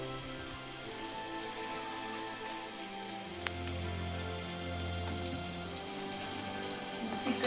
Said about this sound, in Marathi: तर आता चिकन पण टाकून घेते